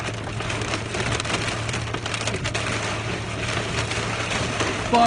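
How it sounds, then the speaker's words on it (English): Hail pelts a Chevrolet Suburban during a tornado-producing storm, a dense, steady clatter of ice on the vehicle's roof and body heard from inside, loud and unbroken throughout. "Dude, there's a lot of hail."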